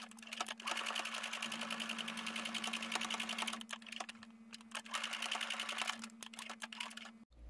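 Rapid, even clatter of a sewing machine tack stitching a fabric 3D mask, running in bursts with two brief pauses and a short stop near the end, close and fairly quiet.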